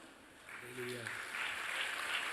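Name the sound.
audience applause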